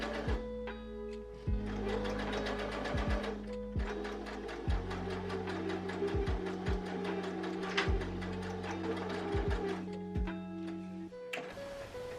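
Sewing machine understitching a seam allowance onto dress lining, running in short motor bursts with rapid needle clatter and brief pauses, close and clear.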